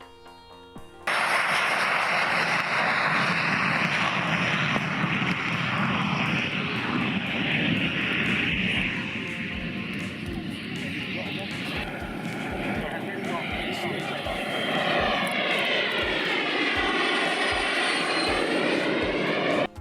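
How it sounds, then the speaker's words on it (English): A MiG-15 fighter jet, a mid-1900s aircraft, flies past with a loud, steady engine roar that fills the whole clip after a sudden start, its tone sweeping noticeably toward the end. "Still on the MiG-15, this is a moment where a pilot soars in the air with the fighter jet."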